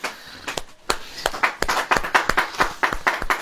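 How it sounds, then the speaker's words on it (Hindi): A church congregation claps during a Hindi sermon, a string of sharp, fairly regular handclaps spread across a few seconds at moderate volume, with no talk over it. "ताली बजेगी।"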